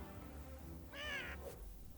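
A cat meows once, short and fairly quiet, with faint game ambience around it, in the video game South Park: The Fractured But Whole.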